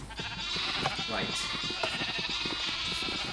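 Sheep in a video game bleat in rapid wavering calls, several overlapping and fairly close, under steady game sound with people talking over them.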